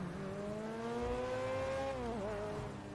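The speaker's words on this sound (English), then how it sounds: "Ooh, that car sounds so nice, bro. Why does this car sound so nice?" Car engine in the GTA 5 video game, a steady sustained rev with a slight pitch shift and dip near the end, loud and continuous with no talking.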